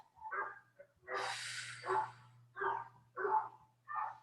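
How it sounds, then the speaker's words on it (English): Neighborhood dogs barking outdoors, a string of five or six fairly faint barks spaced irregularly, one drawn-out howl-like bark among them, over a low steady hum. "we got all the dogs in the neighborhood are barking here"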